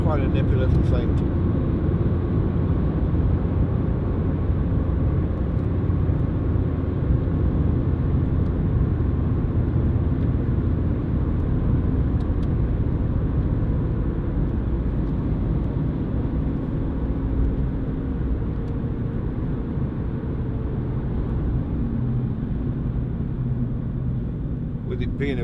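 Steady low rumble of tyre and road noise inside a Ford Fiesta 1.4 TDCi panel van with an empty, unlined load area, droning continuously at an even level while driving.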